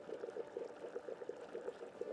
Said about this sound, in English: Why am I hearing bubbling sounds?